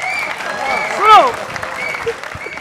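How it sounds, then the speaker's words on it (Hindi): A crowd at a Jharkhand election-season show keeps up a broad bed of clapping while a voice talks over it, with a brief melodic vocal flourish in the middle. "तालियों का पहाड़ खड़ा कर देना मेरे दोस्तों"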